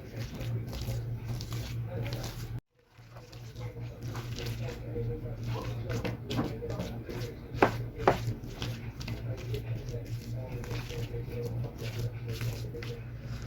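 Boiled potatoes being mashed coarsely with a spoon, giving soft, steady squishing and light scraping against a bowl, close and quiet, with a short pause partway through.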